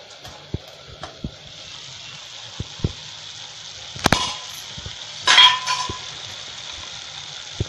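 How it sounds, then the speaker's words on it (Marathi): Sprouted moth bean bhaji being stirred in a pan, with quiet background sizzling, scattered spoon clicks against the pan and a couple of louder scraping stirs midway. "छान असे हलवून घेऊया भाजी"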